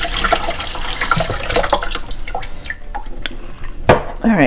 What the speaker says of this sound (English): Sorry, I'll have to listen to the water dripping.